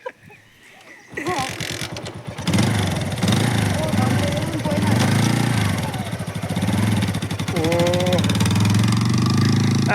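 A motorcycle engine runs steadily and loud throughout, a rough mid-pitched drone starting after a brief quiet moment, with people talking over it.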